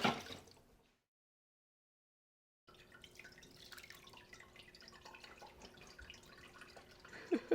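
Whey drips from a brie cheese mold into a kettle, faint scattered drops and light trickling after a brief silence, close and quiet.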